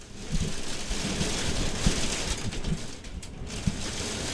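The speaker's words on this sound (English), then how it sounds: "I really hope you can't hear the storm in the background." Heavy storm rain falls steadily in the background, a dense continuous hiss with occasional low knocks and thumps, constant and moderately loud throughout with no talk.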